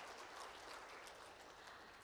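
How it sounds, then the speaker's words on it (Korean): Applause from an audience at the opening ceremony of a 2017 international intellectual property symposium: steady, even clapping that lasts about two seconds, soft and somewhat distant in a hall, with no voices. "여러분 박수 부탁드리겠습니다"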